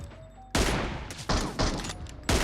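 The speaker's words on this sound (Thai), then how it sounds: "เขายิงกันอยู่เขายิงกันอยู่" Gunfire in PUBG Mobile: four loud, close shots crack out in quick succession, each ringing briefly, against a quiet background.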